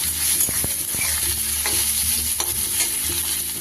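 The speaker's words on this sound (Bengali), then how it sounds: "এই পর্যায়ে আমি দিয়ে দেব একটা ছোট সাইজের টমেটোকে কুচিয়ে রেখেছিলাম" Chopped tomato drops into reddened frying onions in a pan, a busy sizzle broken by sharp spatula scrapes and clatters, close and steady throughout.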